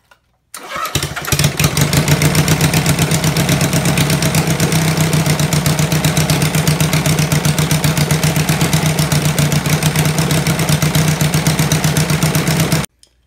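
Honda Sloper 160 motorcycle engine running steadily at idle during an oil pump priming test, a loud, continuous rapid-firing chug that starts abruptly and holds evenly for about twelve seconds before cutting off.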